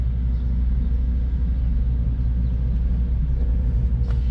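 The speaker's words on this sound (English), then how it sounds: "And then let you hear the transmission." Low steady rumble from a car's transmission idling with the windows closed during a driving test on a Calimer Stage 3 setup, a constant drone throughout with no voices.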